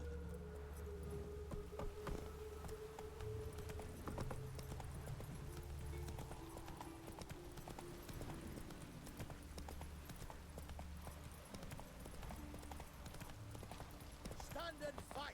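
Hooves of Geralt's horse Roach galloping in The Witcher 3, a continuous rapid clip-clop with a snort or whinny, under game sounds and a voice talking.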